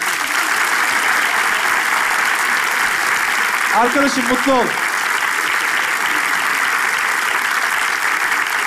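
Steady audience applause fills the whole stretch as a musician enters at a Turkish comedy show rehearsal, with a brief spoken line cutting through the clapping midway.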